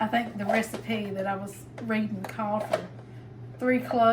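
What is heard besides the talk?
No everyday noises stand out.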